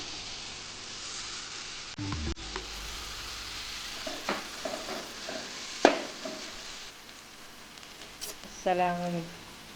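Prawns fry with turmeric and chili powder in a pan, giving a steady low sizzle broken by scraping stir strokes and a few sharp clatters, with a short burst of stirring near the end.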